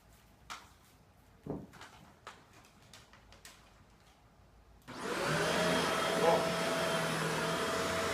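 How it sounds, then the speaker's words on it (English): Shark Rotator Powered Lift Away True Pet NV752 vacuum: quiet handling clicks and thumps, then the motor switches on with a loud, steady whooshing roar that continues to the end. "Let's just see how well this thing just vacuums."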